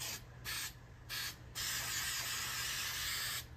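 Spray adhesive hisses onto a boat gunnel upholstery board in three short bursts, then one long continuous spray, close and crisp, with no talking.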